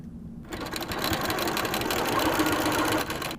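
A sewing machine runs steadily, stitching rows of a classic quilt block together, with a continuous close whirring hum that starts after a brief quiet moment and carries on without a break.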